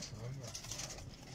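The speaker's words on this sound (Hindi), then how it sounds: "बड़े बड़े कबूतर आपको दिखा रहे हैं" Large slate-grey pigeons coo in low, soft murmuring phrases, close by and steady, with faint background noise throughout.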